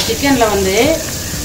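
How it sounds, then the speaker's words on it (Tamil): Chopped onions sautéing with salt in a pan make a loud, close sizzle with stirring noise, while a voice-like tone briefly rises over it. "ஒரு 2 நிமிஷம் வதங்கட்டும் இந்த வெங்காயம்."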